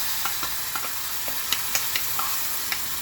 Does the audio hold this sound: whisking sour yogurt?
yes